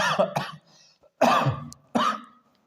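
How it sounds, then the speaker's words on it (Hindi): Several harsh coughs close to the microphone, two quick ones followed by two heavier bursts after a short pause. "खांसी भी आ जाती है।"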